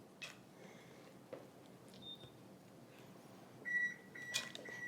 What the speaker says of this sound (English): that's my stove telling me it is ready